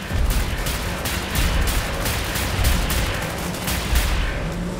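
Sustained cannon and heavy gunfire in the shooter game Wolfenstein: The New Order, loud rapid bursts of booming shots overlapping in a continuous barrage with no pauses.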